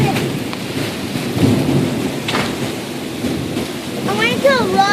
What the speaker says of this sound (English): Look at how fast the thunder is coming and how the rain is coming at an angle.